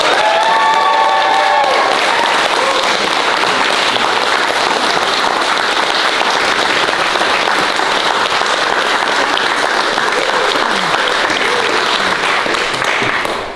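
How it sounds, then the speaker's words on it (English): Wedding guests applaud after the couple is pronounced husband and wife, a dense, sustained round of clapping filling the whole stretch at close range, with a few faint voices and cheers mixed in. "A kiss for your wife and a round of applause, everyone."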